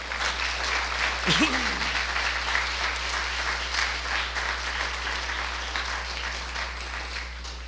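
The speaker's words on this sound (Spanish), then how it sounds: "démosle un aplauso al Señor" A church congregation applauds in a sustained, even patter of many hands, fairly distant, with a low steady hum beneath and a brief voice near the start.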